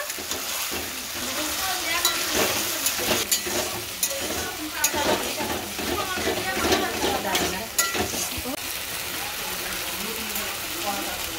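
Vegetables sizzle in a pan as a ground peanut spice paste is stirred through them, with a busy crackling fry and frequent scraping spatula strokes, close and moderately loud, with no talking.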